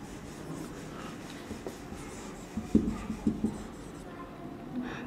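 Pen or chalk scratches out a math equation in short strokes and taps, close and fairly quiet, with a cluster of firmer marks near the middle.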